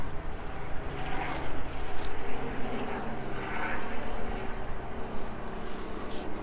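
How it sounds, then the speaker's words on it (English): A helicopter's rotor and engine drone fills the air with a rhythmic throbbing wash, steady and moderately loud as it passes overhead. "Let me let this helicopter go by."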